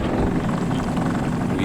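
A fishing boat's outboard motor, tilted up in shallow water on the Holland River, runs with a loud, continuous close-up drone, roughened by steady wind buffeting throughout.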